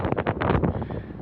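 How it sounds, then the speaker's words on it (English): Strong wind gusting across a microphone at an Ontario lakeshore in mild December weather, a continuous broadband roar with bursts of buffeting, loud and close throughout. "as you can tell, it is quite windy out"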